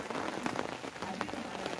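Steady rain patters on surfaces in a rural village in Punjab, Pakistan, a dense, even close-range hiss of drops with no voices.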